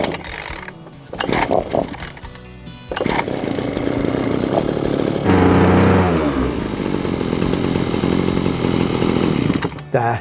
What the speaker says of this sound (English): just worth giving it a few revs to warm the engine, then it will tick over quite nicely